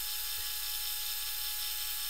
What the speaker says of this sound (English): I drill many holes in them.